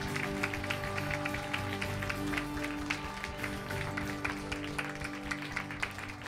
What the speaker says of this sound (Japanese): 主に大きな拍手を送りましょう。